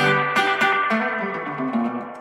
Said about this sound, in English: that spring reverb is just way too high at that point